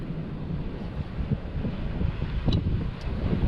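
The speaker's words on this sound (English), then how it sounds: "the wind is blowing directly from that direction straight into here" Wind in the Derbyshire Dales buffets the microphone with a loud, continuous low rumble and gusty roar, unbroken for the whole few seconds and with no voices over it.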